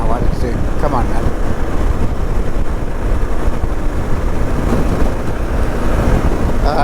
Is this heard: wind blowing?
yes